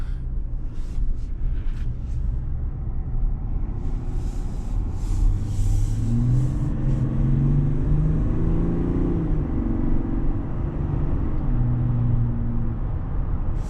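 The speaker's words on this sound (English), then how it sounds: "that should give us a little sound test of what it sounds like under acceleration." 2021 Chevrolet Suburban RST, 3.0L Duramax turbo diesel, accelerating on the road, a steady engine drone that climbs in pitch through a couple of shifts under constant road rumble from inside the vehicle.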